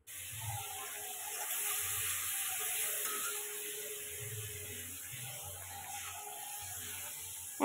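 A spice paste of onion, garlic, ginger, poppy seed and green chilli, loosened with a splash of water, fries softly in a pan as it is stirred, with a steady faint hiss and sizzle and low scraping strokes.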